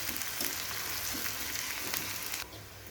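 Chopped onions fry in a pan with cumin while being stirred, producing a continuous crackling sizzle with faint scraping touches, then dropping to a quieter hiss for the last half second.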